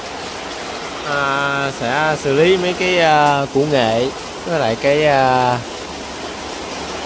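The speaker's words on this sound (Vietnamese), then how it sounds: "mưa như đổ nước, như trút nước" Heavy rain pours down around midday as a steady hiss that runs throughout, while someone talks over it at close range.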